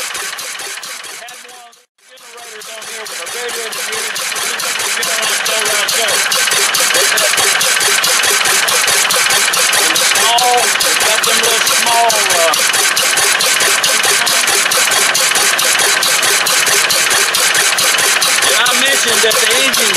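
A Fairbanks Morse flywheel engine, hand-crank started, runs close by, loud and steady with a rapid mechanical chuff after a brief lull near the start, continuing unbroken to the end while a voice talks over it.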